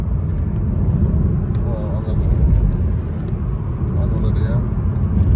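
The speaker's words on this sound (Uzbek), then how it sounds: "Agarda bir yo'ldan ketamiz mana juda ham o'zini yaxshi tutyapti mashina." A Chevrolet Malibu 2 with a 2.5-litre engine cruises along a road, its steady low engine and tyre rumble filling the cabin without letup.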